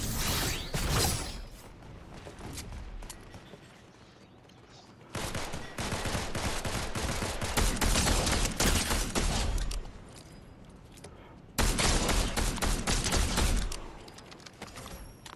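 Video game gunfire from Fortnite Zero Build, loud bursts of rapid shots and fusillades in several dense clusters separated by quieter gaps, with mechanical clatter between volleys.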